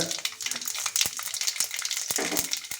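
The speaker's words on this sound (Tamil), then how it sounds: "கடுகு போட்டு நல்லா பொரிஞ்ச உடனே 2 சோம்பு போட்டுக்கலாங்க" Mustard seeds splutter in hot oil with a dense, crackling hiss broken by rapid sharp pops, loud and close with no voices.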